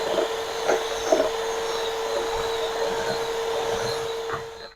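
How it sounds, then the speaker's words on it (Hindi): An electric hand beater whirs steadily through cupcake batter with oil or ghee mixed in, a constant close mechanical hum with a few faint knocks, cutting off at the end. "घी को डालकर हमने अच्छी तरह से मिक्स कर लिया है।"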